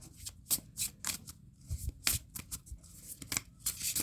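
Tarot cards being shuffled by hand, with repeated papery riffles and slaps in uneven bursts, close and fairly quiet, with no talk.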